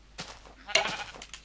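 Sheep bleating in Minecraft, with two or three short, nasal bleats in a quick series, the loudest near the middle. Each call is brief and fairly close, with faint background noise between them.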